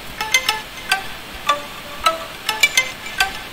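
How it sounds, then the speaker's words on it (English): A synthesized pluck one-shot, pitched up, repeats about a dozen times in an uneven rhythm. Each bright, short note plucks clearly and fades fast over a faint background hiss. "and it's a pluck sound"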